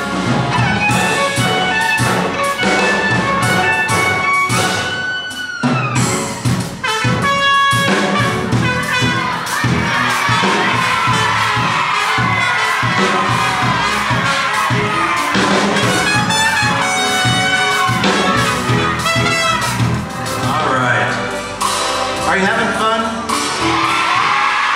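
Children in a symphony concert audience shout out and cheer loudly over brass and orchestral music, with bursts of crowd yelling rising and falling throughout.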